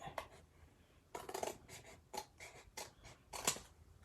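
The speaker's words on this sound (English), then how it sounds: "for these bigger things, I like to use my bigger scissors" Large scissors snip through paper in a series of short, close crisp cuts, irregularly spaced, with soft rustling between them.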